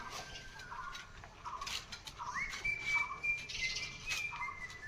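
Birds at an outdoor feeding spot for street dogs chirp and whistle faintly, with short repeated calls and a longer thin whistling note, distant and soft against quiet background noise.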